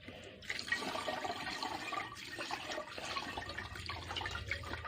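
Water pours and splashes steadily over tapioca pearls for several seconds, a continuous rushing trickle close by with no voices.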